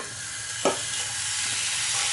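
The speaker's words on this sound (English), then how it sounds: "add your meat in." Beef quesadilla filling hitting a hot, dry pan with no oil, giving a steady broadband sizzle with a brief sharper burst near the start as the meat lands, no voices.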